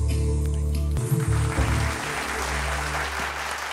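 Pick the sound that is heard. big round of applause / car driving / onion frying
big round of applause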